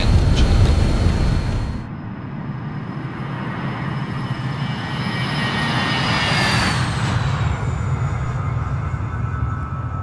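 BAe 146-200 jet engines at takeoff power in Microsoft Flight Simulator 2020, a loud steady roar with a rising whine, continuous and alone throughout with no talk.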